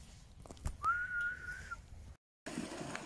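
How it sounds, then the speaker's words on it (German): A person whistles a single sustained, slightly rising tone to call a dog outdoors at Grabowsee in the Schorfheide, with faint background ambience before a brief silence. "Kannst du mal pfeifen?"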